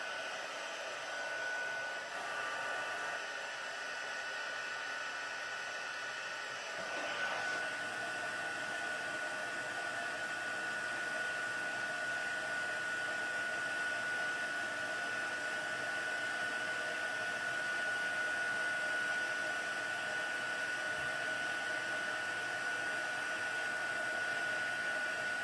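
A heat tool blowing hot air to melt gold embossing powder on a stamped craft card, a steady whooshing roar that runs on unbroken and fairly loud throughout, with no voices.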